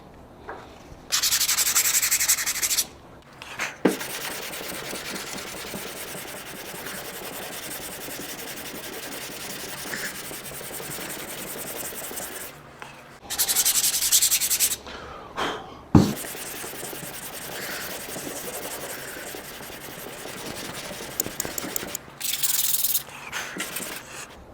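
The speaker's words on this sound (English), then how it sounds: "I take another piece of sandpaper, some rougher stuff, that's some 80 grit, and just loosen it up" Someone hand sands a car body with 80 grit sandpaper: steady close rasping strokes run throughout, with louder, brighter scrubbing bursts near the start, middle and end and brief pauses between.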